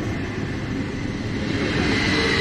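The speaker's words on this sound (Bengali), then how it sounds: "ট্রেনটা বেরিয়ে গেল।" A train pulls away from a station in Zurich, giving a steady low rumble and hum that swells slightly toward the end, with no talking.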